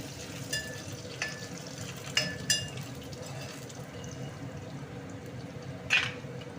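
Curry leaves crackle in hot oil for a leafy greens curry, a soft, steady sizzle with a few sharp pops rising from it.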